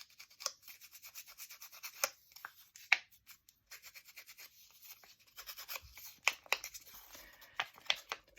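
Paper scuffed up by hand while making a craft tag: close, dry rubbing and scratching strokes in quick uneven bursts, with short rustles and pauses between them.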